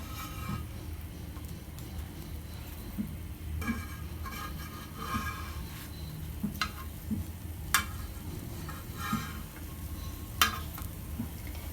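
Semolina and potato breakfast cakes cook covered in a pan over a low flame, giving a steady, soft sizzle with scattered sharp clicks and taps throughout.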